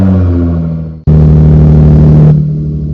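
A 2011 Nissan GT-R in a video game starts up: a loud, close engine drone that cuts out briefly, then bursts back to a steady, louder idle before easing down, with no voices.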